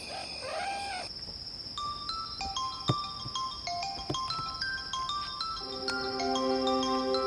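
A phone ringtone: a brief crowing-rooster call, then a bright electronic melody of chiming notes that grows louder toward the end.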